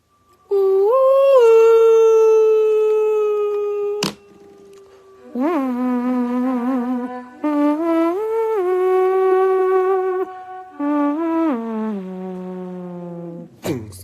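A song plays from a GiGA Genie smart speaker, with clear sustained howl-like vocal melody lines broken by short pauses and sharp percussive hits.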